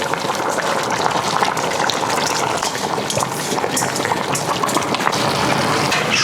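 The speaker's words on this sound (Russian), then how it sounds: "Мне нужно бурное кипение." Water boils vigorously in a pot for Uzbek osso buco pilaf (plov), a loud, continuous bubbling and churning that holds steady throughout.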